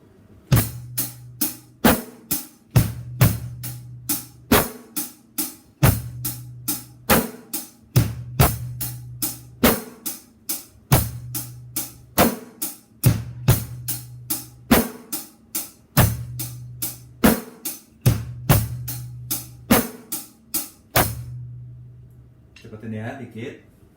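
Drum kit playing a blues beat with a bass drum variation, steady repeated cymbal and snare hits over low kick thumps, loud and close, continuing evenly for about twenty seconds before stopping.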